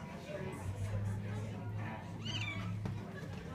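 A house cat meows several times, with high, rising calls sounding close to the microphone while someone speaks softly to it at home.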